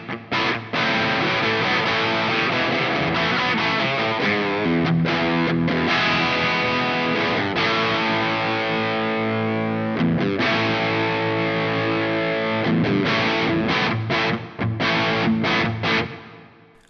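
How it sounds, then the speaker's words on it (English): Overdriven electric guitar through a Coffee Shop Pedals Cortado reverb set to hall plays a continuous, loud passage of distorted chords and ringing notes with a lush, spacious tail. "I love a good overdrive with a nice reverb on it."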